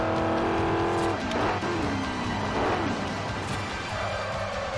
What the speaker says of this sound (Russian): Мотор вот у Форда, конечно, орёт как.